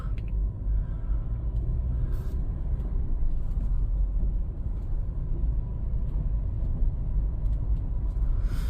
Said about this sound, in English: We're listening for drivetrain noise, wheel bearing noise, anything odd.